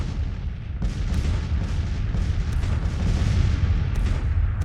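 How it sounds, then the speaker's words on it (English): Artillery bombardment in the Grand Tactician: The Civil War video game, a dense, continuous rumble of booming cannon fire with repeated distant blasts. "The enemy are bombarding us."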